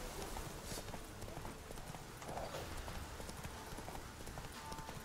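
Steady clip-clop of horse hooves in The Witcher 3 trots along at an even rhythm, sitting under a continuous noisy backdrop.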